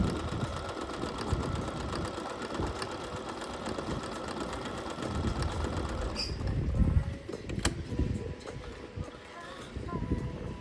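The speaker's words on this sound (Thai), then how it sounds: "เตรียมปรับเป็นที่เบอร์ศูนย์แล้วผมจะลองเย็บให้ดูนะครับ" Portable sewing machine stitching fabric at stitch-length setting zero, a steady fast mechanical rattle running throughout with someone speaking over it.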